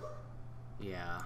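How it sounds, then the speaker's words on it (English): A dog barks and yips in the background during a voice-over about simulated truck suspension, the sharp bursts partly masked by steady speech and a low constant hum. "sorry if you hear a dog in the background"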